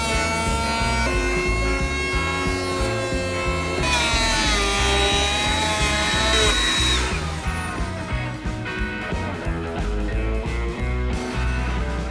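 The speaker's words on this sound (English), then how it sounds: "While Rodney's sanding" A power sander working a wooden dining room table, a loud continuous whirring hum with shifting whining tones, close and steady, changing pitch partway through as the tool is pressed and moved.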